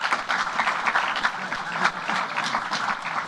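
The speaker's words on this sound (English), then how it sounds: "give yourselves a round of applause" Lively audience applause at a youth STEM event held at Google, a steady, fairly loud patter of many hands clapping with no talking.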